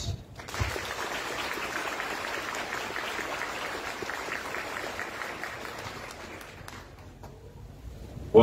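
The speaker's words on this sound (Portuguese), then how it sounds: "Salva de palmas." Sustained applause from a congregation at an evening Catholic Mass, steady and fairly loud for several seconds, then tapering off near the end.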